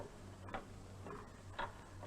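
A small electric master clock that drives four conventional dial movements ticks steadily, about four crisp ticks at an even pace of roughly two per second, heard close over a low mechanical hum with no voices.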